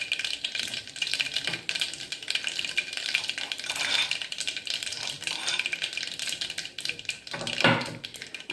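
Dried red chillies, bay leaf, mustard seeds and cumin tempering in hot oil for vegetable khichdi, a busy crackle of popping seeds and sizzling with sharp ticks and a louder spatter near the end, no talk.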